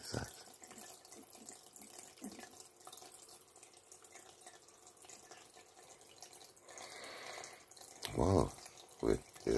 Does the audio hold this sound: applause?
no